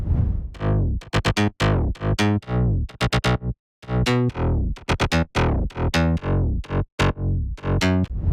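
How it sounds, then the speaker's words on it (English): A buzzy future house synth bass with portamento glide plays a choppy, rhythmic line of short notes with pitch sliding between them, loud and dry with brief gaps, no voices. "this is the perfect bass line for a future house song"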